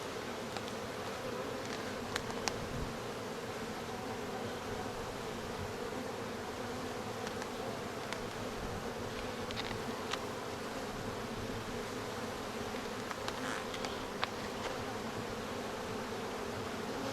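Honeybees buzz in a steady, continuous drone around an open hive during an inspection with brood, pollen and nectar frames, with a few sharper tones of bees passing close by.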